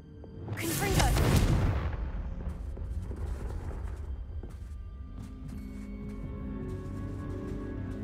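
A Confringo fire-blast spell from Hogwarts Legacy goes off as one loud, close booming burst, then rumbles and fades into a low lingering tail with faint ambient game sounds.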